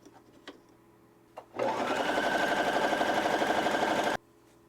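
A sewing machine, recently oiled after failing, runs test stitches in one steady rapid burst of about two and a half seconds, loud and close, after a couple of faint clicks.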